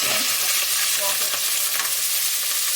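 Octopus being sautéed in a pan for a seafood casserole: a loud, continuous sizzle with stirring scrapes mixed in, close and constant throughout.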